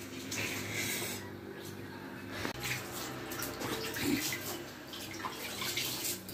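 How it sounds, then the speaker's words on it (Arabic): Water poured from a height into a basin of couscous grains for a Moroccan dish, a steady splashing and trickling flow with small drips, fairly quiet and close, with a voice speaking over it. "دابا نعطيه الماء مزيان باش تجيني الذره تكون رطبه"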